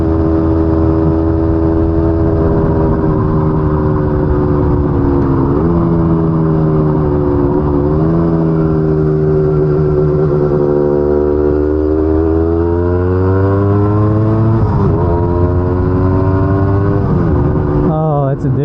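A Yamaha DT250 two-stroke vintage enduro motorcycle engine drones loud and close while being ridden, its pitch rising and falling steadily through shifts and throttle changes for the whole stretch.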